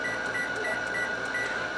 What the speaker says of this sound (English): So now we're going to set our timer